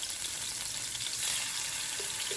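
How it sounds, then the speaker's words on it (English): Steady, close sizzling hiss of shrimp and salmon bites frying in a hot pan, continuous and fairly loud throughout with no voices. "You want that sizzle."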